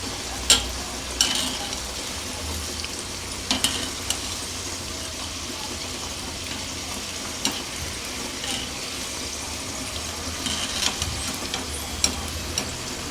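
Chitti kaja sweets fry in hot oil with a constant bubbling sizzle, close and steady, broken by a few sharp clinks of a utensil against the pan, with no voices.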